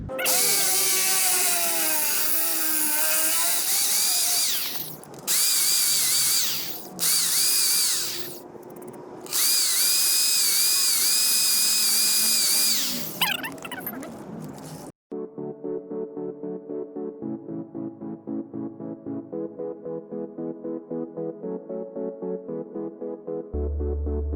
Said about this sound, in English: there's quite a bit of drilling, so maybe I'll just show you